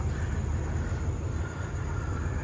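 Train running through Saraburi railway station in Thailand, a steady rumbling roll of railcars at moderate distance, continuous and even throughout with no voices.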